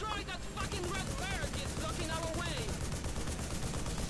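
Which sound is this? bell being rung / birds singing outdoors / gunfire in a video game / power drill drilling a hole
gunfire in a video game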